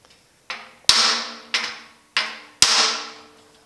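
A hammer and block strike the clamped sheet-metal bumper splash apron of a 1950 Chevy truck: five sharp, loud metallic taps spaced about half a second apart, each ringing briefly before fading, with no voices.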